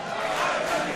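A live wrestling crowd at an IWC event cheers and roars in a dense, steady wash of noise, loud and continuous throughout.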